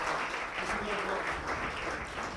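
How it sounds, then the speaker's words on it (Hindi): Sustained applause from an audience at a Women's Day award ceremony honouring women, filling the room steadily and loudly throughout with dense, continuous clapping. "एक बार सुनीता चौधरी जी के लिए जोरदार तालियां हो जाए।"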